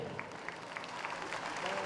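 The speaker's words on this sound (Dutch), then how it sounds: "Begint u een applaus te geven voor" Audience applause for award winners at a pop music awards ceremony, a continuous, moderately loud wash of clapping lasting about two seconds with a faint tone running beneath.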